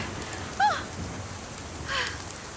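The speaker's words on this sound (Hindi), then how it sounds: "वो बारिश हो रही है।" Steady rain falling in the mountains, an even wash of noise with a couple of brief higher tones rising over it.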